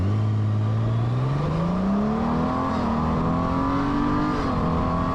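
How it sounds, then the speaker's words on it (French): A Honda Goldwing flat-six motorcycle engine revs up steadily in sport mode, pitch climbing smoothly then holding high, a loud, close, continuous growl with no talking. "ce 6 cylindres à plat, qui a une petite tendance, quand on la met en mode sport, à délivrer une sonorité très proche de celle d'une Porsche"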